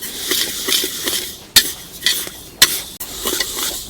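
Sesame seeds being stirred in a pan while dry-roasting until lightly browned for til ladoo, a steady scraping and rustling with a few sharp clinks of the spoon against the metal pan, close and moderately loud.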